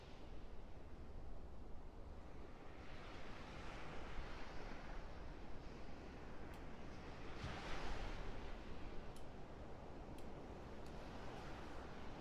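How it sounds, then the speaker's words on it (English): Ocean waves and surf wash steadily in a continuous broadband roar, with gentle swells rising and falling and a slightly stronger surge near the middle; no voices. "I'm going to turn up the waves"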